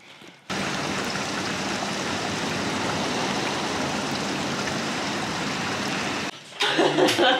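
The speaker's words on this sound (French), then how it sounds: "Il pleut bergère." Steady, dense rain falls outdoors for several seconds as a continuous hiss that cuts off abruptly, followed by a brief, rougher rustle.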